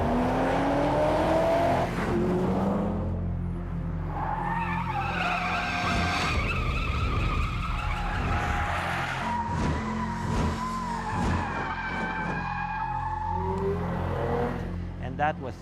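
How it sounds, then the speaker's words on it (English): BMW 1 Series M Coupe tires skidding and squealing as the engine revs, a loud continuous screech with rising and falling pitch under a steady roar, with some voices mixed in. "BMW in Canada came up with this fascinating video which featured the 1 Series M Coupe going through walls."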